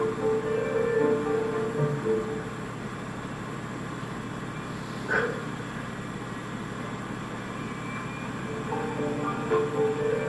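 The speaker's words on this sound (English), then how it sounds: "the sounds of hissing steam and squeaking metal" A steam train stands idle in snow, hissing steam in a steady broad wash with faint metallic squeaks and one brief sharper burst midway, no voices present.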